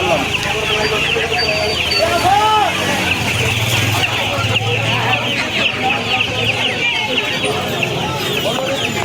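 Many chickens cluck and squawk continuously close by at a poultry market in Uluberia, a busy flock sound with faint voices and background bustle mixed in.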